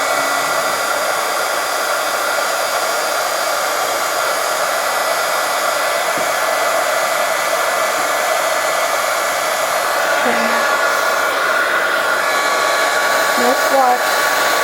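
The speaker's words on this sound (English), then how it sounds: "Now I'm going to go ahead and turn on my heat gun." A heat gun blows steadily while melting embossing powder on an eBosser magnetic shim, a continuous close whooshing airflow hiss running the whole time with no talk over it.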